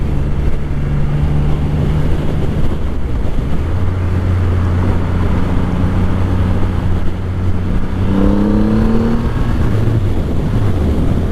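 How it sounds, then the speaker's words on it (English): Triumph Rocket III cruiser motorcycle being ridden, a low steady engine drone under heavy wind rush, with a short rise in revs near the end. "A little push on the bars and the bike goes exactly where you plan on it going."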